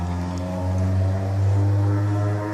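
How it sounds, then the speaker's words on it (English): A low, steady rumble of passing traffic with droning engine tones, continuous and fairly loud, swelling slightly midway. "Sorry about the traffic."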